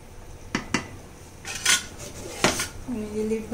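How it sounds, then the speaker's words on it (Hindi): Metal lid set onto a cooking pot while Kashmiri dum aloo simmers with kasuri methi, giving a few sharp clinks and clatters of metal on metal up close, then a faint sizzle. "हमने ये लीड बंद कर दिया"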